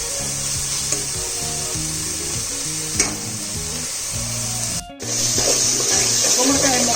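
Pumpkin curry ingredients fry and sizzle in a pan, a close continuous crackle with occasional stirring knocks and a brief break before the sizzle swells louder, while a voice talks over it.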